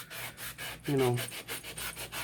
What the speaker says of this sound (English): sand it off a little bit more so it has more paint, more grip to grip onto